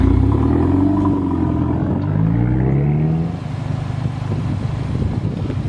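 A Mercedes-Benz CLA 45 AMG with its inline-four engine revs loudly through the exhaust close by, a rising then falling roar that settles into a rough, rumbling idle, with no voices over it.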